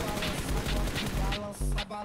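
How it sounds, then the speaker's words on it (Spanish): Rapid hip-fire gunfire in PUBG Mobile, bursts of sharp shots in quick succession, loud and close, overlapping with someone talking. "Dispara mucho de cadera este man y pega los tiros."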